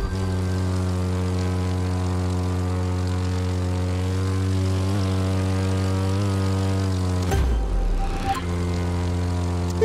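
A propeller airplane engine drones steadily and loudly during a barrel roll in the racing game The Crew 2, its tone wavering briefly near the end of the manoeuvre.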